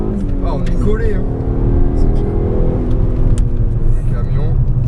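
A truck rumbles past on the road with a deep, loud engine drone that swells and lingers, heard close by with voices talking over it.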